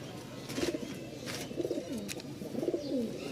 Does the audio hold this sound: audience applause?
no